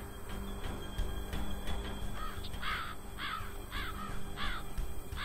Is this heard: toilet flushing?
no